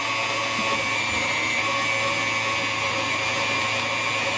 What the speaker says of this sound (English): We're going to turn our mixer on medium.